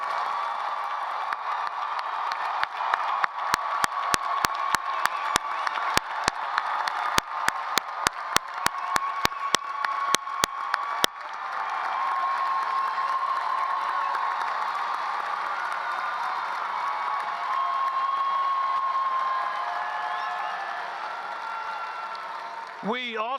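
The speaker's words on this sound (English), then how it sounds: "Please join me in giving our graduates one last round of applause" A crowd at a December university commencement claps and cheers for the graduates, a sustained swell of applause and whoops, with several sharp camera-like clicks early on and a broad, steady roar afterward.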